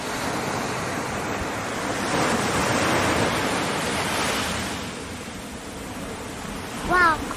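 Ocean surf rolls in at a shallow summer beach, a broad close wash of breaking water that rises and falls, with a short high chirping sound near the end.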